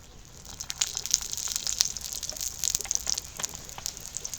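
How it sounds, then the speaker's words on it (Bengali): Oil going into a hot pan for frying a stuffed flatbread, a steady bright sizzle and crackle throughout, close and fairly loud, with no talking. "এবার দিয়ে দেবো তেল"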